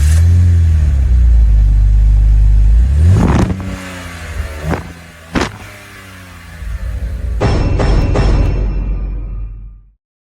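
A Dodge SRT Challenger, a Mopar muscle car, idles with a deep, loud rumble, then its engine blips and revs several times in sharp bursts, swelling into a final sustained roar before cutting off abruptly.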